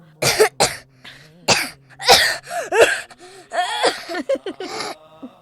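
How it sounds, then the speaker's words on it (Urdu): Loud, repeated coughing in harsh bursts after choking on a toffee, several rapid hacks followed by raspy gasping breaths, close by with no talking. "احمد نے ٹافی اٹھا کر منہ میں ڈالی اور اگلے لمحے زور زور سے کھانسنے لگا"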